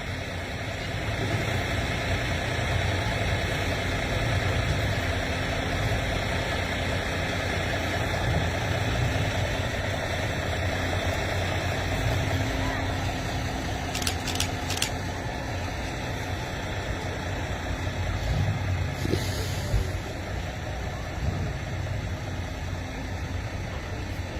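An Austin Powder company truck sits with its engine idling, giving a steady low rumble that runs unbroken throughout, with a couple of faint brief clicks over it.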